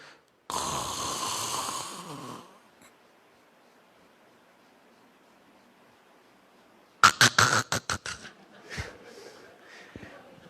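A man imitates snoring with a long rasping inhale, then after a quiet pause gives a series of short choppy snorts and sputtering breaths, loud and close.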